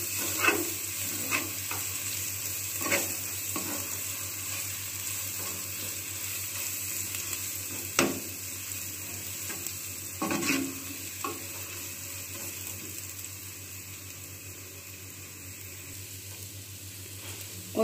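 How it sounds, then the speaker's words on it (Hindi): Crushed garlic and cumin frying in a pan for Lahori chickpea curry, a steady close sizzle with a few sharp stirring clinks and scrapes scattered through, no voices. "कुटा हुआ थोड़ा सा लहसुन और साग जीरा। इसको भी हम साथ फ्राई कर लेंगे।"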